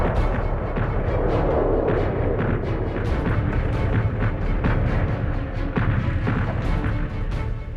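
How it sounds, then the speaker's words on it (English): A heavy artillery bombardment roars continuously, with dense overlapping booms and rumbling blasts forming an unbroken, loud barrage, as in a massed First World War shelling of the Western Front in 1918. "the eerie calm in the Allied trenches was broken by the heaviest bombardment of the entire First World War"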